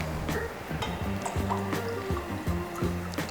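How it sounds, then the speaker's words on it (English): Champagne pours into a glass in a home kitchen, a bubbling, gurgling fill with repeated rising glugs and light clinks, close and fairly loud over several seconds. "topped off with a lot of champagne"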